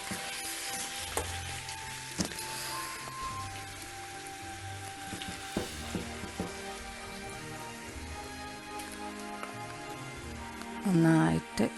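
Chicken dry fry masala sizzling in a hot pan, a steady close crackle of frying with occasional stirring clinks, running under a voice talking throughout.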